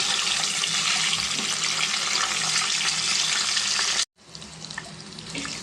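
Eggs frying in hot oil for a chicken egg curry make a loud, dense, continuous sizzle that cuts off abruptly and then returns as a quieter, lighter hiss.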